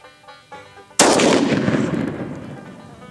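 A Remington Core-Lokt 150-grain .30-06 rifle round fired at a steel toe boot, a single sharp, loud report after a second of quiet, followed by a long rumbling echo that slowly fades.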